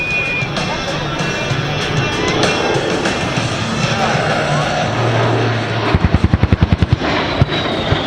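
An A-10 Warthog makes a low-altitude strafe run at an airshow: a loud, steady jet roar builds, then a rapid string of about ten sharp bursts rings out near the end.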